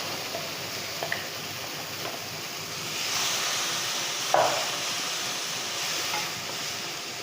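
Tomato puree sautés in a pan for chana masala, giving a soft, steady sizzle with occasional scraping and tapping of a spoon as it is stirred.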